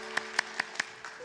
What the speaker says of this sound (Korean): 우리 한번 크게 박수할까요? 박수합시다.